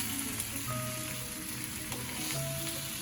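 Pieces of arbi (taro root) roast with garlic in a hot pan, giving a steady, close sizzle with faint crackles and a few brief tonal clinks over the frying.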